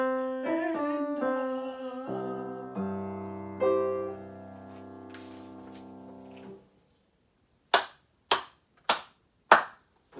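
Slow, loud handclaps ring out from behind, five sharp separate claps spaced about half a second apart, coming after a held harmonic tone of singing or music fades to silence.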